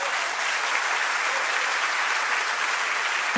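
A church congregation gives sustained, dense applause to the Lord during a sermon, a loud and even roar of many hands clapping without pause.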